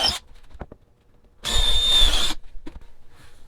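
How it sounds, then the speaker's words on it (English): A power drill whirs loudly for about a second with a high whine, drilling holes to fit a drawer front, framed by quiet moments and a few small knocks. "I'm just going to drill 2 holes."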